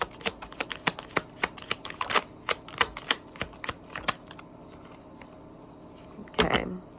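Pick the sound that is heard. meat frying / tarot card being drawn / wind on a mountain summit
tarot card being drawn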